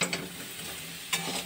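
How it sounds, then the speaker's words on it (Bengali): Prawns with sesame dry-frying over a low flame with no oil give a soft, close sizzle, broken by brief scraping stirs near the start and again just past one second. "লো ফ্লেমে হালকা যখন ভাজা ভাজা হয়ে যাবে"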